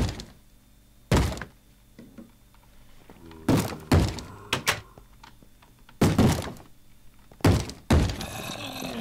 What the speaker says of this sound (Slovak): Dvere.